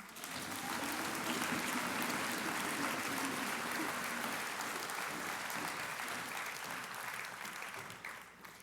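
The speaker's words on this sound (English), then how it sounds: "give one more round of applause, this one for yourselves" An audience at a Discover Program recognition event for new senior associates gives a sustained round of applause, a dense, even clatter that holds steady and tapers slightly near the end.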